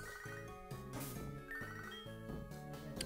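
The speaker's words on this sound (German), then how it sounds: "Julian ruft an." A Pokémon HeartGold phone-call ringtone plays alone, a bright, repeating electronic melody in short looping phrases, clear and moderately quiet.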